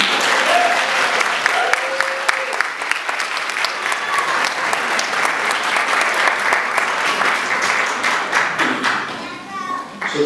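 Warm, sustained applause from an audience at a scholarship awards ceremony as a recipient is honored. Dense clapping runs steady for about ten seconds, with a few voices and a child's chatter faintly underneath before it tapers off.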